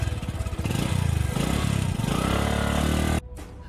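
A vehicle engine rumbles and revs up as it pulls away, a loud close throbbing drone that holds steady for about three seconds before cutting off abruptly.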